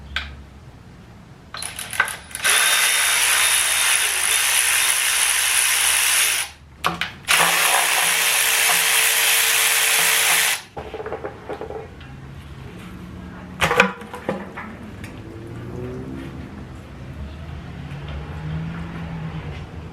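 A power tool whirs in two long loud bursts while removing the transmission pan on a 2nd-gen Dodge Cummins with a 47RE, followed by clinks and metallic handling in a garage.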